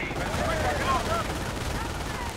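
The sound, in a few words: gunfire from riflemen in a strategy video game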